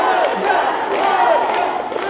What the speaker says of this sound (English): And everybody starts cheering for them.